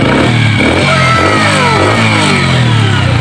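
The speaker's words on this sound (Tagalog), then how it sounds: "Sige sir, paandarin mo ulit. Ayan po mga boss, so bali 1 kick lang." A customer's motorcycle, fitted with a new CDI and set up for battery operation, fires on a single kick and keeps running with a loud, close, steady buzzing engine note that rises and falls slightly, with no talk over it.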